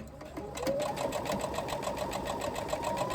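Close, continuous rapid chatter of a domestic sewing machine stitching through cotton woven fabric and waterproof canvas, running steadily after a brief start.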